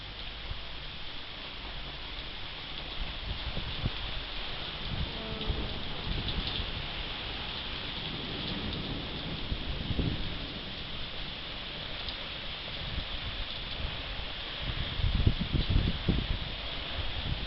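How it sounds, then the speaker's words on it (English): Steady rain pattering on surfaces with rustling leaves and occasional gusts, a continuous wash of drops that swells slightly near the end. "It's raining on my feet in here."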